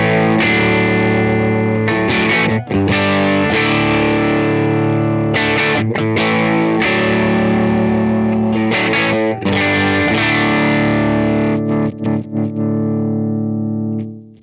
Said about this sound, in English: I am running a Scythe Guitars OH20 into a Dr. Z Carmen Ghia.